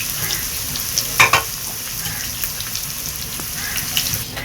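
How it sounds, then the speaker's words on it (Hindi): Finely chopped onion frying in ghee toward golden brown gives a steady close sizzle and crackle, with a couple of sharper spatters or stirring clicks near the start; no voices. "1 अदद मीडियम साइज़ की हम प्याज लेंगे, बारीक बारीक कट करके, और इसको गोल्डन ब्राउन होने देंगे।"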